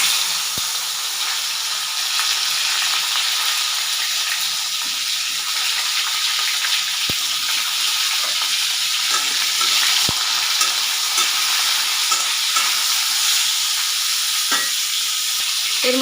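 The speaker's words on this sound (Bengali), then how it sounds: "এবার আমি এই উচ্ছেগুলো ভেজে নেব।" Bitter gourd slices fry in hot oil with a loud, steady sizzle and occasional sharp clicks of stirring, with no talking.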